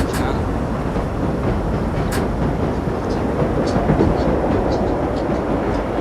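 A New York Line 7 subway train in the World of Subways game rumbles steadily along the track, a loud continuous low roar with faint high clicks and squeals.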